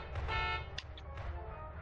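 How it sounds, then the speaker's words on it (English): A car horn taunt sounds in the Garry's Mod Prop Hunt game, a short honk standing out over faint game background noise, followed by a few brief clicks. "Why is there a car honking?"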